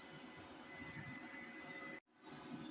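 A sewing machine stitches a winter trouser with a steady, continuous mechanical whir and hum that stops abruptly for a moment near the end, then resumes, with no voices.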